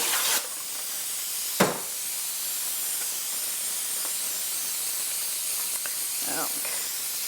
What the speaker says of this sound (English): So I need to spray the pan?